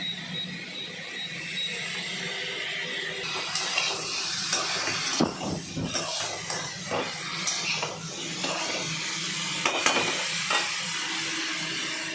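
Water spinach curry ingredients fry in a pan, giving a steady, moderately loud sizzle with occasional clatters of stirring that run through the whole stretch, with no voices.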